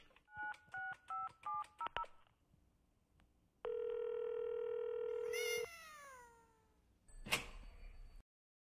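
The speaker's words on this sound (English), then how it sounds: "Let's see how the cat reacts to my cell phone's vibrate mode." In the Secret Files Tunguska video game, a cell phone sounds rapid electronic dialing beeps and then a long steady tone, followed by a cat's loud, drawn-out meow and a sharp yowl.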